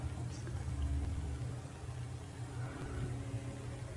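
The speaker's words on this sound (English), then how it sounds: "I have to listen to the traffic again?" Outside traffic rumbles as a continuous low, distant wash of passing cars and engines, steady and fairly quiet throughout.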